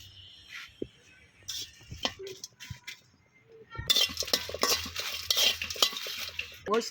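Dry red chillies roasted and stirred in a pan, with a few light scrapes and clinks at first, then a steadier run of scraping, rattling stirring and faint sizzle in the second half.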